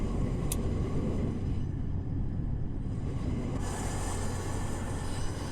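A Class 180 Adelante train pulls into a platform in the Roblox British Rail game: a steady, loud rumble of rolling stock with a brief high squeal near the start and a hissing rise toward the end, without speech.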